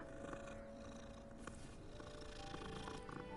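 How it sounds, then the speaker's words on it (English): Soft, continuous cat purring from a petted cat in the video game Hogwarts Legacy, steady and close throughout with no talking. "I can pet the kitty!"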